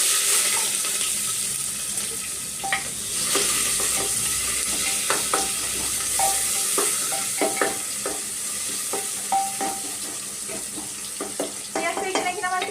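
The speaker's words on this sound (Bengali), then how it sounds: "কেটে রাখা পরিমাণ মতন আমি পেঁয়াজ দিয়ে দেবো দিয়ে একটু ভালো করে ভাজা ভাজা করে নেবো" Onions frying in oil with bay leaf and dried chilli for a rohu fish curry, a steady hiss and sizzle with repeated clinks and scrapes of stirring throughout.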